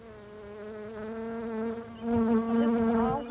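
Honey bees buzzing steadily during a beehive inspection, a close, continuous droning hum with layered pitches that swells louder partway through.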